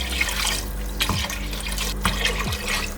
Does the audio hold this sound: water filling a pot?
yes